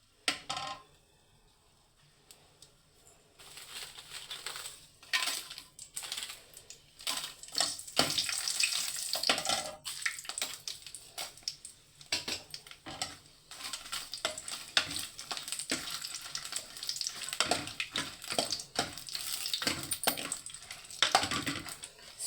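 Dried red chillies, curry leaves and garlic fry in oil on a low flame, a quiet start building into a steady crackling sizzle broken by frequent stirring scrapes and light clinks, with no talking.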